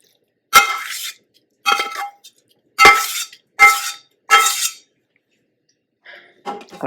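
Butter beans tumble into a pan of softened onions, giving five distinct close clinks and rattles spaced about a second apart, then faint shuffling.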